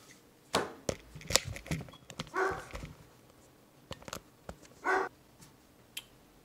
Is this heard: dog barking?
yes